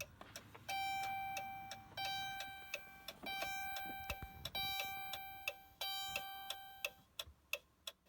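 A handheld key programmer for a 2008 Dodge Magnum beeps repeatedly, with sharp, bright electronic tones sounding at a steady pace, some long and some short, over faint background noise.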